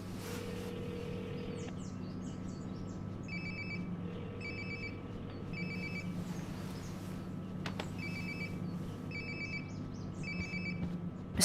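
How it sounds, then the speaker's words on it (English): A phone rings nearby in the video game Life is Strange: Before the Storm, repeated pulsing ring bursts in a regular rhythm over a low steady ambient hum, with no talk. "Sounds like my phone is definitely nearby."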